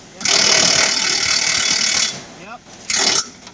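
A stick welder laying a bead on steel angle on a boom truck in the field: a loud crackling, hissing buzz for about two seconds, then a shorter burst after a pause, with a voice speaking between them.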